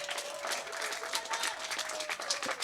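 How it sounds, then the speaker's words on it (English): Audience applause for the sound engineers running sound at a concert: a dense, steady wash of clapping from a crowd that fills the clip at moderate level, with faint murmuring mixed in. "I'd like to give a round of applause."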